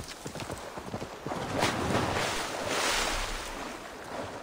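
Horse hooves clip-clopping at a steady pace in the Assassin's Creed Valhalla video game, moderately close, over a continuous wash of wind and lapping water near a small dock.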